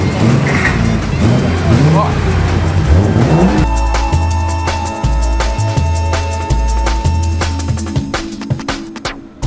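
Cars pass close by on a street, with engines revving and rising then falling, tyres sounding over a continuous rumble, and a voice speaking early on.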